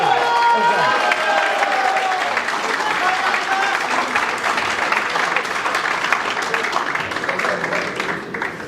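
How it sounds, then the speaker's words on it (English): Crowd applause and cheering at a Workers Party election rally as George Galloway takes the stage, a sustained roar of clapping with some shouts, strong at the start and holding steady before fading slightly. "Ladies and gentlemen, another round of applause."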